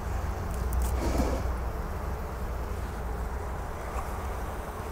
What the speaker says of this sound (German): Ja, Bienen sind drin, aber es brummt auch.